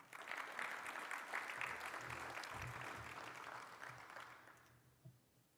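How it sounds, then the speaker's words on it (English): A convention audience at a national Arab American gathering bursts into full applause that holds steady, then thins out and fades to a few last claps. "please give yourselves a round of applause"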